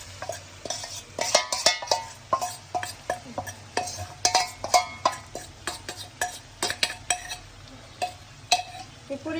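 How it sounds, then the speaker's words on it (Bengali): Marinated chicken tossed into frying onions and spices in a pan, with a steady low sizzle under frequent scraping and clinking of a spatula against the pot, close and without talk. "তখন আমি ম্যারিনেট করা চিকেনটা এর মধ্যে ছেড়ে দিচ্ছি"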